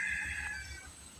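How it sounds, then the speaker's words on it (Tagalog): A labuyo, a red junglefowl rooster, crowing once in a short, bright call that fades out over about a second, heard alone and fairly faint. "May pagkabantam yung unang tilaok niya."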